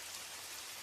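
Rain falling steadily outside at night, an even soft hiss with no distinct drops standing out, continuous and alone.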